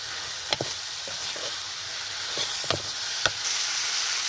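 Soft steady sizzling of papad curry frying in a pan, with a few sharp clicks and light scrapes from stirring.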